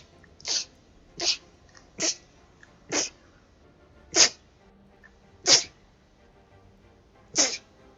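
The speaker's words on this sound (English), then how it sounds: "I sneeze a lot" A person sneezes seven times in a row, each a sharp, loud burst spaced about a second apart, with quiet between them.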